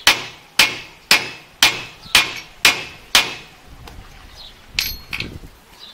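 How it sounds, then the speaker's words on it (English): A part on a John Deere 12 ft disk gang is hammered into place through a giant socket, seven loud ringing metallic blows at a steady rhythm, followed by a few lighter knocks and clinks. "he's using a giant socket to help press that in"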